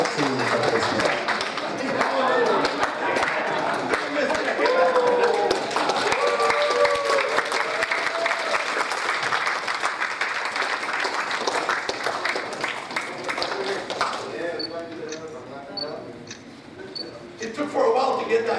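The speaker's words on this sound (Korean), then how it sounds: "다시 한번 힘찬 축하의 박수 부탁드리겠습니다" Lecture audience gives a long, full round of applause, many hands clapping steadily with voices mixed in, tapering off near the end as speech takes over.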